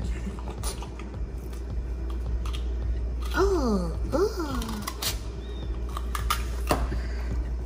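A French bulldog named Royal chews a celery snack, making quiet, scattered crunches and clicks against a low indoor hum, with a short vocal sound partway through.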